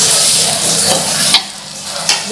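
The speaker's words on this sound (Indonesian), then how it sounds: "Bumbu yang tadi sudah dihaluskan kita tumis sampai dia matang." Ground spice paste with bay leaves sizzles loudly in a hot wok with a bright, crackling hiss, and a few quick scrapes of stirring cut through it.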